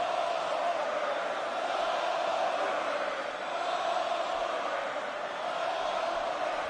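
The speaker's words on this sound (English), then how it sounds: "You can hear the crowd chanting Goldberg right now" A large crowd in the WWE 2K22 video game roars and chants "Goldberg" steadily throughout, a dense, continuous wall of voices filling a big wrestling arena.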